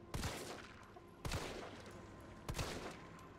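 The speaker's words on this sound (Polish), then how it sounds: "Były 3 strzały" Three evenly spaced gunshots in Resident Evil 3 (2020), about a second apart, each a sharp crack with a short rumbling tail, no talking.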